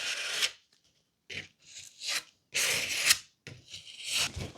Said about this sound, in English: I'm trying to press it down into the recessed areas and then just scrape off the excess